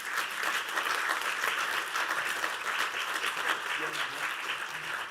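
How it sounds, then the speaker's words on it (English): A symposium audience gives a speaker sustained applause, dense and even clapping throughout, with faint talking briefly audible toward the end. "please give her a big applause"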